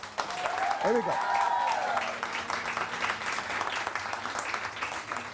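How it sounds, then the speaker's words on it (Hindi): Studio audience applause on a Pakistani morning television show, steady clapping from a crowd at moderate distance that continues throughout, with a brief swooping tonal effect near the start. "एक बार फिर कायद के लिए बहुत सारी तालियां।"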